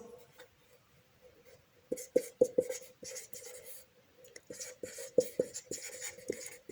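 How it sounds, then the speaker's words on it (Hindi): A pen or pencil writes maths formulas for square area and perimeter on paper, giving close scratchy strokes and taps in irregular bursts, quiet at first and then busier, with no talk. "इसको स्टार्ट करने से पहले मैं कुछ फॉर्मूले लिख लेती हूँ"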